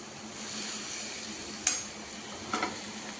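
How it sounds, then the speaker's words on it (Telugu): Chopped coriander and mint frying in oil for chicken donne biryani, giving a soft, steady sizzle, with a sharp metallic clink of a utensil on the pot partway through and a couple of lighter scrapes later. "ఒక కట్ట కొత్తిమీర, ఒక కట్ట పుదీనా మంచిగా కట్ చేసేసి ఇలా ఆయిల్లోనే ఫ్రై చేసుకోవాలి"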